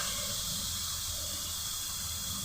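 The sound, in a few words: masala spices cooking in a pan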